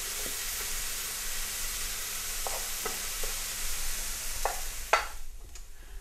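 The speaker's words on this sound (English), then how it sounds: "That needs a good stir, and then they need to be left on the hob for about 10 minutes" Mushrooms sweat in a pan on the hob under a constant soft sizzle and hiss, with scattered light clicks and scrapes of a spoon stirring, one sharper knock near the end.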